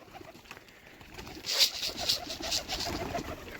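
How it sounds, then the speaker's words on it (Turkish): Pigeons outdoors give soft, repeated bursts of cooing and fluttering, faint at first and then growing a little louder and more frequent, with no one talking. "Kuşlar bakalım kuşlar gelsin."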